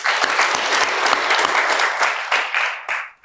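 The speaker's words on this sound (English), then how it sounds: "Another round of applause, please" Applause from the audience at a ceremony honouring late advocates, dense steady clapping from a crowd close by that thins into a few scattered claps and fades out at the end.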